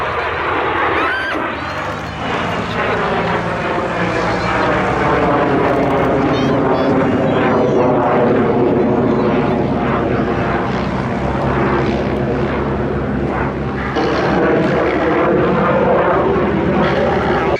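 De Havilland Vampire jet aircraft roaring steadily and loudly throughout, a broad continuous engine rush with shifting tones, blended with a second aircraft's drone and some background voices.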